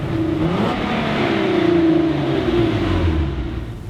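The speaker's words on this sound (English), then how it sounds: "This allows the Jenny two-door to pull with authority through all the gears, backed by a nice V6 soundtrack thanks to the intake resonator." A 2015 Hyundai Genesis Coupe's V6, breathing through its intake resonator, pulls hard through the gears, a loud, steady engine note with rising harmonic sweeps that holds for several seconds and eases slightly at the end.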